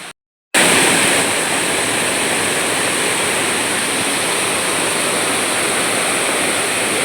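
A rain-swollen village stream in Kerala rushes in a loud, steady, close wash of flowing water. The sound starts abruptly after a brief silence and continues unbroken, with no voices.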